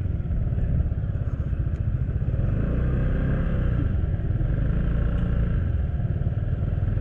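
An FKM MTX150 CVT scooter engine hums steadily up close while riding, a constant droning motor with a low rumble and no gear changes.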